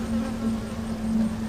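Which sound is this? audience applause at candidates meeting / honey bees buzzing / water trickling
honey bees buzzing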